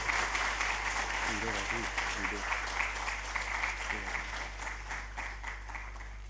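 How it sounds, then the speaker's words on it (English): A seated audience at a Youth Day talk with J Sai Deepak and Shobhit Mathur claps steadily in welcome, a continuous wash of applause with an announcer's voice speaking briefly over it. "Please welcome our speakers with a huge round of applause."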